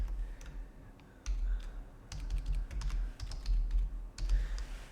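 Quiet computer keyboard typing of a file name, with scattered individual key clicks and a few short bursts of keystrokes close by over a low background hum.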